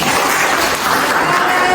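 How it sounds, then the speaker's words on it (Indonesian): A class claps along during a teaching practice lesson in a school classroom, producing a short, loud burst of dense clapping that stays fairly even throughout. "Tepuk tangan lagi."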